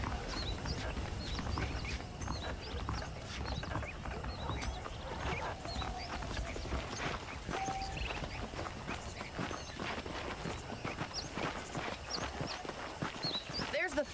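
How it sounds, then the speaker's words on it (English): Horses clip-clop at a walking pace through the whole stretch in the Red Dead Redemption video game, with a rhythmic, quiet hoof patter and faint birds and ambience in the background. "The horses are saddled up over here."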